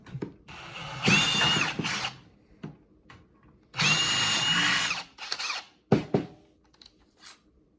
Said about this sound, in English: drill these out